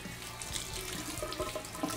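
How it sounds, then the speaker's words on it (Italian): Water running from a tap in a steady, soft splashing stream, fairly quiet and close, with no voices. "Picchetto d'acqua."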